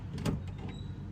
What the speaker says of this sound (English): shutting the door. So now it thinks it's shut.